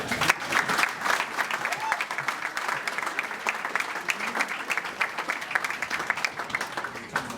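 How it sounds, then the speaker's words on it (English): An audience at a college athletics Hall of Fame induction ceremony breaks into sustained applause, many hands clapping unevenly and steadily with a few sharper claps standing out, filling the room for over seven seconds. "Big round of applause for everybody."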